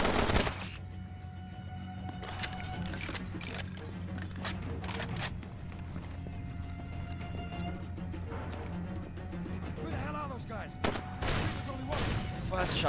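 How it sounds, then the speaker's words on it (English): Shotgun blasts go off in Far Cry 2 amid a chaotic firefight, several sharp booms scattered over a steady background rumble, with someone talking over the action. "Shotgun."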